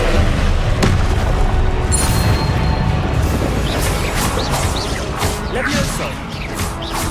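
Confringo fire-blast spells cast in Hogwarts Legacy, heavy booming explosions and crashing impacts layered over constant combat noise with a voice speaking throughout.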